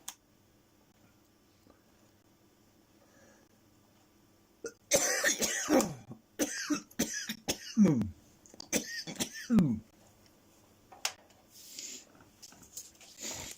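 After a quiet stretch, a run of close coughs and throat clearing comes in irregular bursts, tapering into softer rasps.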